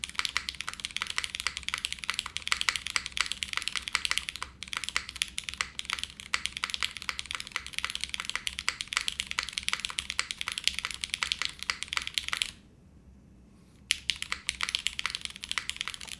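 Fast, steady clacking of keys on a Monokei Kei v2 gasket-mounted mechanical keyboard, dense close-up keystrokes with one brief pause near the end and no talking.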